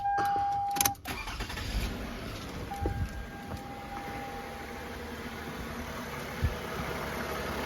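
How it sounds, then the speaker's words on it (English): Toyota Avalon engine cranking briefly and catching after an alternator replacement, then settling into a steady low idle with a faint chime tone and small mechanical knocks, no talk. "All right, start the car."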